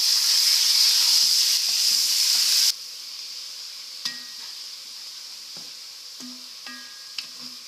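Beef pieces fry in a hot pan for a simple stew, giving a loud, steady sizzle that drops to a quieter hiss partway through. A few sharp metal tong clicks stand out near the end.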